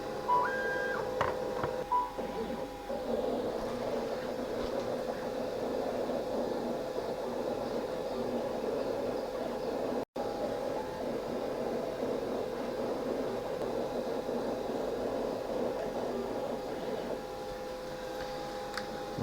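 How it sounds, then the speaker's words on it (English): A CNC laser engraver at work on a New Zealand Rimu wooden gift box base, with a vacuum and fume extractor running alongside. It gives a steady, continuous whir and hiss with constant tonal hum, unbroken for the whole stretch except one momentary dropout. "I also need to start the vacuum, the fume extractor, and I'll just hit start."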